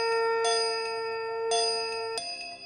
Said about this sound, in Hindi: घंटियां गूंजती